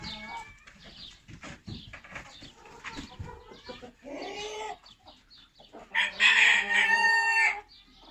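Chickens cluck and mutter close by, building to a loud rooster crow near the end that rings out for over a second.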